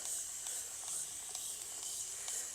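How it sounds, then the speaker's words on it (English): Diluted alcohol is sprayed from a hand sprayer onto seedling soil, giving quiet, repeated hissing spritzes in a steady rhythm, heard alone and fairly faint. "And I'm spraying the top of the soil as well."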